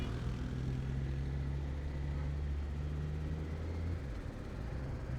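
Kawasaki Z900 motorcycle, a 2020 model, cruising in 3rd gear at low speed through Mumbai city traffic: a steady, loud low engine drone with a sustained hum that dips slightly near the end.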